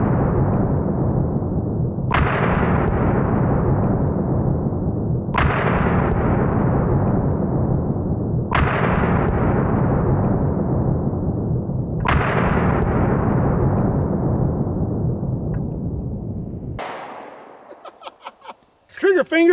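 A Glock Gen 4 Model 20 10mm handgun fires five loud, booming outdoor shots spaced a few seconds apart, each trailing off in a long echo, with some rattling handling noise at the end.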